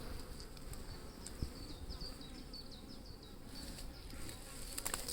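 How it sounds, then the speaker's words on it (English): Honeybees buzz around an opened Layens hive, a dense, continuous drone close by with individual bees' whining passes rising and falling over it. "Bees have got plenty to do, plenty of food out there."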